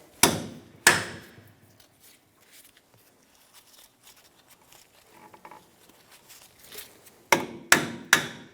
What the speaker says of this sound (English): Using a hammer, tap the bolt out.